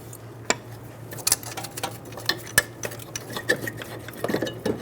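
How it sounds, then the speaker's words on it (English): Strut bolts come off a 2007-2011 Toyota Camry with a string of irregular metallic clicks and ticks, close and moderately loud, over a low steady hum. "Remove the bolts."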